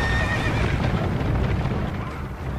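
Horses neigh and hooves clatter in the Dark Souls 2 video game as the Executioner's Chariot approaches, a loud, dense rumble of whinnies and galloping that fills the scene.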